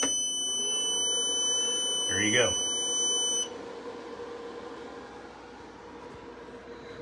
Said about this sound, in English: the controllers will beep to let you know,